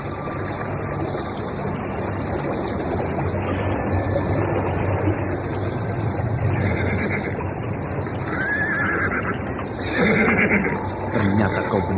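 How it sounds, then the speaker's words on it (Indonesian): Two horses gallop away from a palace courtyard, their whinnying and hoofbeats faint within a steady, dense wash of background noise that swells slightly toward the end. "2 ekor kuda telah berderap meninggalkan halaman istana"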